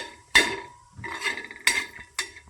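A metal spoon scrapes and clinks in a pan while coconut and spices are dry-roasted for a village-style mutton curry, four distinct sharp clatters with softer stirring between, close and clear with no voices.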